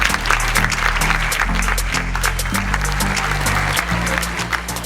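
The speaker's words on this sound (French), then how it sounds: "j'ai envie de dire donc à tous ces jeunes de se lever et d'applaudir toutes ces personnes qui sont venues" Loud, sustained applause from the audience at a graduation ceremony for the 2015 business school class, dense clapping that carries over a low musical or hum background.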